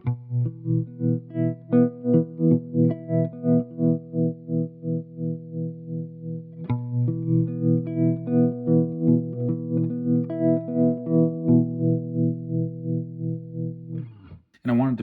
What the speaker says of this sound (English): I would say this is kind of a bias tremolo type sound.